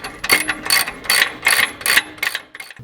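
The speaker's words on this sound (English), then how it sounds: "So we're going to go ahead and tighten up this back bolt." A ratchet tightening a 19mm bolt on a Toyota 4Runner shock guard, with six crisp, loud, close clicking bursts in a steady back-and-forth rhythm and no talk.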